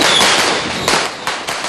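Firecrackers bursting during New Year celebrations in Tondo, Manila: a dense, continuous crackle of rapid pops with several louder sharp bangs standing out, close and loud, with no talking.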